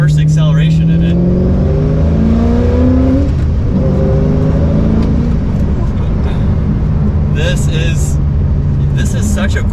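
A 2005 Ford GT revs hard and pulls away, its pitch climbing through the gears, loud and close, with a voice speaking over it.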